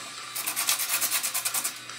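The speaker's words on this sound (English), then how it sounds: "It's hard sanding a new logo because all okay, the noise now it makes." A sandpaper block rubbing over a Nerf logo on a toy blaster, close and crisp, in a quick run of about a dozen rhythmic back-and-forth scrapes after a short quiet start.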